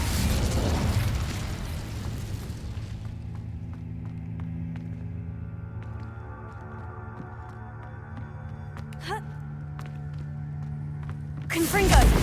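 Incendio fire spell blast from a Harry Potter video game, heard as a loud whooshing burst at the start that settles into a long sustained roar, ending with a second sharp flare.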